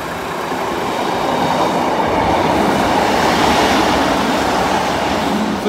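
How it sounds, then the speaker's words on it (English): A train rumbles past Sincil Bank level crossing close by, a loud continuous roar of wheels and carriages that stays steady throughout, with no voices. "Second train approaching."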